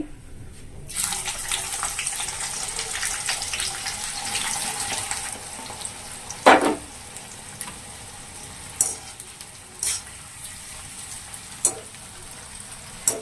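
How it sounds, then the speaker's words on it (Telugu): Sliced onions fry in hot oil in a pan on high heat while a dum chicken biryani is being made, giving a steady hiss with several sharp sizzling bursts and stirring noises, and no talking. "ఈ హైలో పెట్టుకొని ఈ ఆనియన్స్ అన్నది వేపుకోండి"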